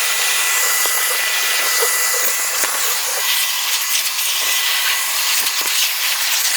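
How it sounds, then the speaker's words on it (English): A vacuum cleaner runs in a constant, loud, breathy whine during cleanup of scraped-off old insulation and demolition debris while an entry door is replaced, with no voices. "So just get your vacuum."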